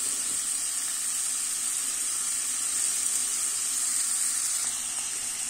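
Onions sautéing in olive oil in a pan for a home Turkish dinner, giving a steady, even sizzle and frying hiss that runs unbroken throughout with no voices.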